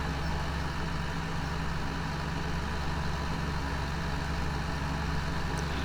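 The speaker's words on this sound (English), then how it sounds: "Select the manure spreader and turn it on, then distribute it rigorously across your acre." A manure spreader running behind a tractor in Farming Simulator 17, giving a steady, unbroken engine drone with a low mechanical hum that stays constant throughout.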